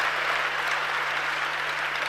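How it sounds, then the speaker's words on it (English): An audience claps together at a youth dialogue session in Ghana, with steady, dense applause that holds an even level throughout and has no voices over it. "So let's clap again for ourselves"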